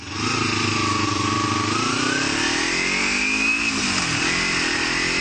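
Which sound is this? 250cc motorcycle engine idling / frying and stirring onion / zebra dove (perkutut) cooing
250cc motorcycle engine idling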